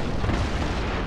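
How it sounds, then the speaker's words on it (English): Port-side cannon broadside firing chain shot in a Napoleon: Total War naval battle: a dense, loud, sustained rumble of overlapping booms filling the whole moment without pause. "Port fires, chain shot, try to disable the Trinidad."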